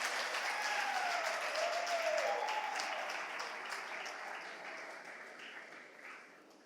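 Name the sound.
audience applause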